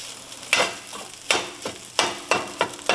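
Vegan burger crumbles sizzling in a hot pan, broken up by a utensil that scrapes through them about every half second to second, with a steady frying hiss underneath and no talking.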